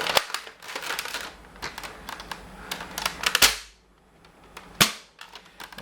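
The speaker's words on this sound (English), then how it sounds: "you can hear the plunger tube slowing down" A modified Nerf Longshot blaster with an added O-ring fires in a run of sharp, snappy cracks, a couple of louder isolated shots standing out near the end, each followed by a brief whooshing plunger release.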